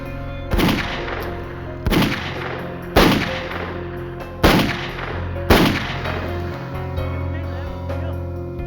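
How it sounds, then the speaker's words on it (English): .357 handgun shots fired at wardens: five sharp, loud cracks at a fairly even pace about a second apart, each followed by a short ringing decay, then a fainter tail. "He had drawn a .357 he'd kept hidden and emptied it into the unsuspecting wardens."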